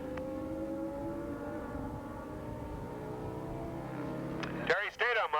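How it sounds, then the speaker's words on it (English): Superbike motorcycles race at Willow Springs International Raceway in 1985, a sustained engine drone rising and falling in pitch as bikes pass, with an announcer talking over it. "The Superbikes on the move."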